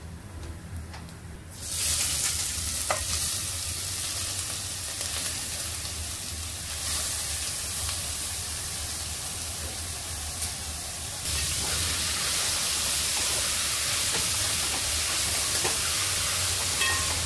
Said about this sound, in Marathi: गाजर फ्राय करून घेऊया